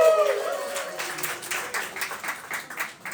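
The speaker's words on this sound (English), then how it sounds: "applause going for our MC" A stand-up comedy crowd applauds the MC, patchy clapping that fades and thins out after a voice trails off at the start.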